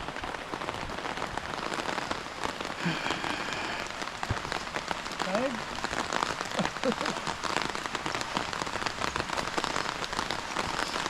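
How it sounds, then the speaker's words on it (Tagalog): Rain falls steadily in a soft, continuous patter on surfaces, with a few faint distant sounds scattered through the downpour. "Nabot na kami ng ulan."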